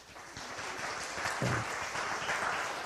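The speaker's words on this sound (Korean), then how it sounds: "이럴 때 박수 한번 쳐주셔야 돼요" Brief applause from a Sunday congregation at a Korean church, a moderate crowd clapping steadily for a couple of seconds without talk.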